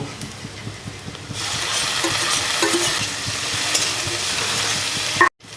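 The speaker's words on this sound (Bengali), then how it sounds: "পেঁয়াজটা ভাজা ভাজা হয়ে গিয়েছে এবার টমেটোটা দিয়ে দেব" Onion and tomato frying in a pan for Maggi noodles on a rainy day, a steady crackling sizzle with rhythmic scraping stirs, close and moderately loud, ending abruptly.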